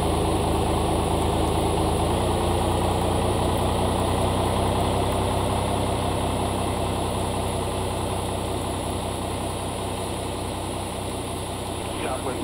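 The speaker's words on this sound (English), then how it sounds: "Starting pushback, and you may start engine." Steady idling roar of a Boeing 737-800 jet engine running during pushback, a constant close droning hum with a high whine on top, unchanging for the whole stretch.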